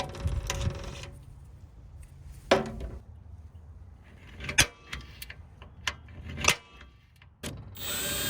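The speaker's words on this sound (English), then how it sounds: "So gotta drill some holes and then figure out the spacing" Power drill boring holes for running board lights on a Dodge D350 truck, short separate bursts of drilling spaced by quiet pauses, with small metallic clinks and handling noises between them.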